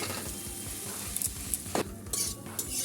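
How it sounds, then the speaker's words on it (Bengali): Mashed potato tipped into a pan of oil-fried spices — cumin, coriander powder and sugar — for a stuffed aloo paratha filling, with a spoon scraping and clinking against the pan over a soft sizzle, a few louder knocks near the end. "এবার ম্যাশ করা আলুটা দিয়ে দেবো।"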